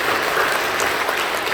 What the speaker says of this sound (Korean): 뜨겁게 박수를 하겠습니다